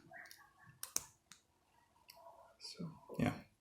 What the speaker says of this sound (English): We clip it on a hinge and click it here.